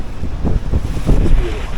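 Wind gusting over a sailboat out on Lake Ontario, a steady low rumble with buffeting swells that rise and fall across the short stretch, no talk.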